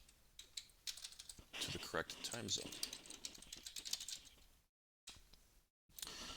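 Quick clicking keystrokes on a computer keyboard sound close and fairly soft, continuing under a person's speech and broken by a couple of short silences.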